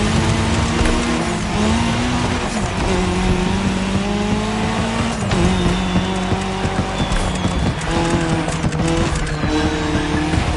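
Race cars in a cross-terrain racing video game roar and screech on tarmac, engines droning loud and continuous with shifting pitch and tire squeal, close and unbroken.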